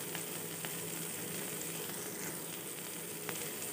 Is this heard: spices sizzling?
yes